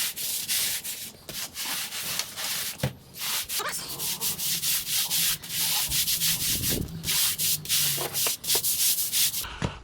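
A stiff brush scrubs wet patio slabs after a foam cleaner has been applied, giving steady rasping strokes close by, with brief pauses between strokes.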